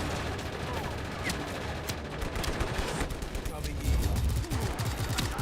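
Dense gunfire and explosions fill a chaotic shootout in the Just Cause 3 video game, with rapid overlapping shots and blasts crackling continuously under a voice.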